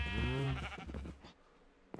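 A single sheep in a farming video game lets out a close, wavering bleat lasting about a second, followed by quiet.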